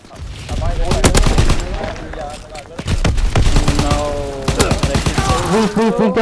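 Rapid automatic gunfire and bursts of shots in a hardpoint-mode shooter video game, loud and near, with a player's voice speaking over parts of the barrage.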